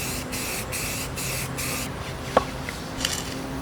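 Aerosol spray paint hisses in steady close bursts onto a DIY angel blade prop, four short sprays with brief pauses between, then a longer continuous spray followed by a couple of small knocks.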